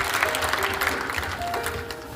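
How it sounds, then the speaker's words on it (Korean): Audience in a university concert hall applauds at a political book concert, steady clapping with a faint tonal hum underneath, moderately loud throughout. "여러분 뜨거운 박수 부탁드리겠습니다."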